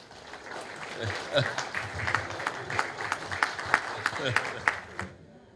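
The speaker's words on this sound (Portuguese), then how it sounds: "Palmas para o irmão William." Applause for a speaker at a Masonic gathering, a crowd clapping steadily for several seconds before it stops abruptly, with some voices mixed in.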